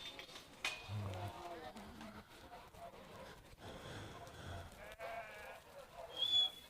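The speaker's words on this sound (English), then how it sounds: "So the sheep just dribbling out there now, going into position for the next load." Sheep bleat softly and intermittently while being let out of the pen at a kelpie yard dog trial, heard faintly at a distance among general outdoor noise and murmured talk.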